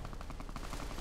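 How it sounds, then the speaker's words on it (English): Turret gunfire in Fallout: New California, a rapid rhythmic burst of about a dozen shots in just over a second, loud and steady with no pauses. "The turret's just shooting me from that angle?"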